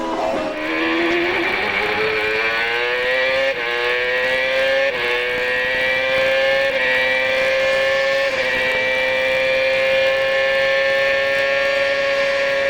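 Onboard engine of a CART race car lapping Mid-Ohio during 2002 qualifying, a loud, steady high-pitched whine that climbs through repeated upshifts, with brief dips between gears and no talk over it.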